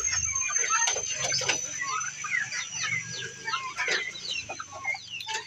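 Breeder turkeys gobble and cluck continuously in a busy flock, moderately distant, with a steady high-pitched hum running underneath.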